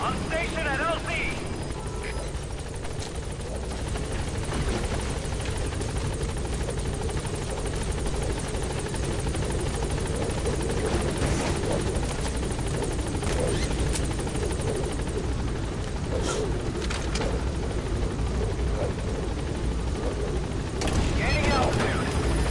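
A B-Quad support helicopter in Metal Gear Solid V sets down at a landing zone, its rotor drone loud and steady throughout, with radio voice callouts spoken over it.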